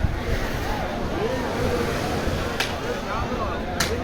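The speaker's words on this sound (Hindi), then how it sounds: "लहरें एकदम आ रही हैं" Sea waves wash in at the Agni Theertham shore in Rameswaram, a continuous broad surge of surf with wind noise buffeting the microphone, and two brief sharp splashes stand out.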